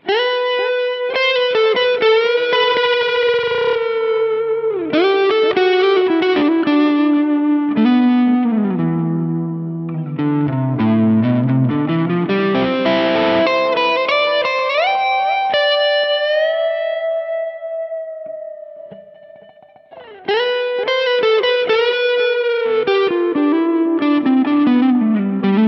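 Headless electric guitar played through distortion, chorus and echo effects, ringing out sustained notes, bends and harmonics that fill the whole stretch, loud and continuous with a brief drop before a strong restart.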